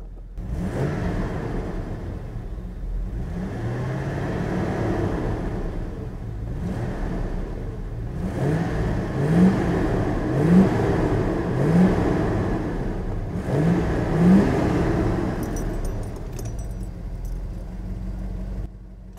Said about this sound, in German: Ich mache ihn jetzt mal an und ich gebe mal ein bisschen Gas.